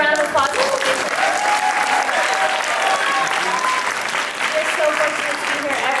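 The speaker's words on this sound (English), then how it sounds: "Can we all just give a round of applause?" Audience applause at a community arts center Nutcracker show, with loud, continuous clapping from a full room and cheering voices mixed into it.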